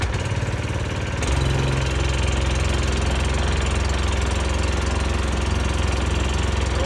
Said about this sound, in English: We're going to go ahead and fire up the motor.